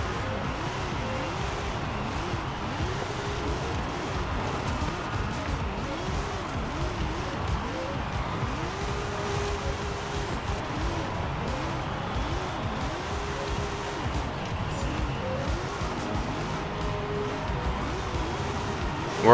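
The Hot Wheels Goliath drift car circles in steady donuts, its engine note rising and falling in repeated revving sweeps with a constant whoosh of tire and wind noise, ending in a sudden louder burst.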